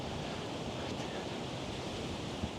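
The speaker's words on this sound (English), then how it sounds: "I mentioned it was windy, right?" Strong wind buffets outdoors near water on a winter excursion, a continuous, rushing roar of broadband noise that stays steady and fairly loud, with a small thump near the end and no talking.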